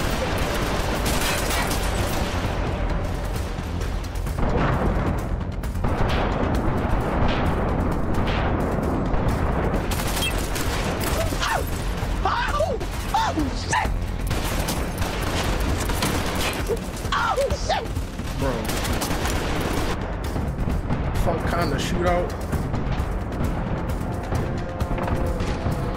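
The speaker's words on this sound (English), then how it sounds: "That was the worst shootout scene I've ever fucking seen." A film shootout plays as a dense, continuous barrage of gunfire and booms, loud and chaotic throughout, with occasional voices mixed in.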